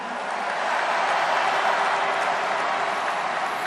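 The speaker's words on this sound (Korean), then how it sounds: "최승 동지에게도 뜨거운 박수 보내주십시오" Loud, sustained applause from a large crowd at a party convention in an indoor dome, greeting candidate Choi Sung; dense, even clapping that fills the whole stretch without a break.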